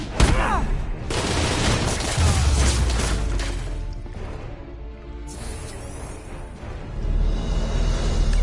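Gunfire from the Spider-Man video game, loud bursts and crashing shots that fill the whole stretch, with a brief lull midway before the shooting swells again; a voice is faintly present beneath.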